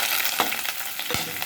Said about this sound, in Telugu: తాలింపులు వేసేస్తాను.